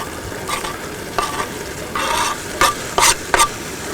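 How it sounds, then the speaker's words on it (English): Onions and peppers sizzle in sloppy joe meat in a pan, a constant crackling fry broken by several sharp stirring scrapes and bursts of sizzle, close and loud. "We're going to add the onions and the peppers in there."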